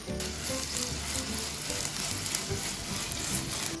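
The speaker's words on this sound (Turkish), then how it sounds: "Şöyle çevire çevire bamyalarımızı kızartmaya devam ediyoruz." Steady oil sizzle from okra frying in a pan, continuous and close, with no voices.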